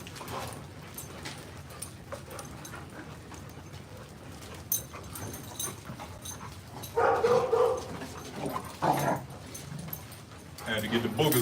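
Cane Corso dogs being let out, giving short barks and whimpers among panting and shuffling, while a person talks over them; louder bursts of activity come near the end.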